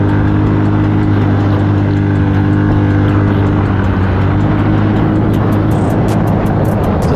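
A 450 dirt bike engine held at wide open throttle on a wooded trail, a loud steady droning roar with strong low harmonics that continues unbroken throughout, no voices.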